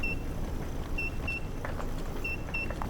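Short high electronic beeps sound in pairs from the mining game Mine Mogul, recurring at steady intervals over a low, rumbling background.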